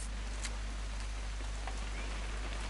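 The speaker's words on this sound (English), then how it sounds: "It's gonna rain the whole weekend, isn't it?" Steady rain falls over a long weekend outdoors, a continuous even hiss of drops on surfaces with no voices, filling the whole stretch at a constant moderate level.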